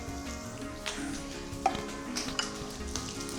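Seven or eight straight-cut green chilies hit hot oil for mango pulihora, giving a moderate continuous sizzle with a few sharp pops and clinks.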